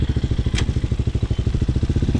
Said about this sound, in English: Of course, I got to give it some revs.